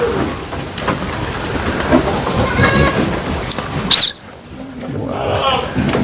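Goats bleat in a pen where pregnant does are kept, several calls rising over a rainy hiss, with a person speaking nearby.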